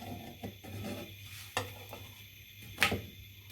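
Rolled roti dropped onto a hot pan for chicken rolls, a faint low sizzle with a few soft taps and one sharper clink of utensil against the pan.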